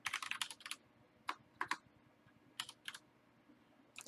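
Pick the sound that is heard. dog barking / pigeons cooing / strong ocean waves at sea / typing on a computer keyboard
typing on a computer keyboard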